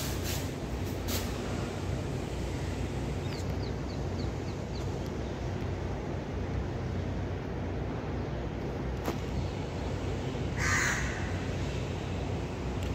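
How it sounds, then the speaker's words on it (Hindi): Crow attacking near a hostel in Mohali, with loud harsh caws repeating in short bursts over steady outdoor background noise and no talk. "कौवा मार रहा है, देखो फिर आएगा"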